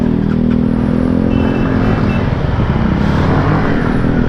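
A 2018 Honda CB125R motorcycle rides along with a steady low engine drone and wind rumble, continuous and close, with no pauses.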